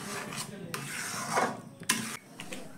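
Raw mango pulp mixed with turmeric being stirred, a close, continuous scraping and rubbing with a few sharper scrapes, faint throughout with no talking.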